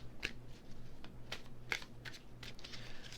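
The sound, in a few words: shuffling tarot cards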